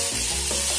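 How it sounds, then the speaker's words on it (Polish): Diced vegetables sizzle and get stirred in a hot frying pan for a vegetable cream soup, a brief close burst of frying hiss with scraping stir movements and no talking. "Również wszystko mieszamy i chwilę przesmażamy."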